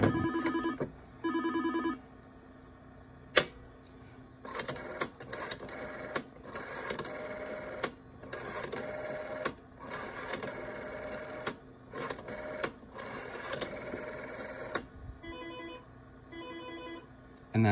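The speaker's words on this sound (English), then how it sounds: "and it will make this phone ring" A Western Electric 500 desk telephone with a rewired ringer, its mechanical bell ringing in repeated bursts of rapid clanging separated by short pauses, close and loud with no talk.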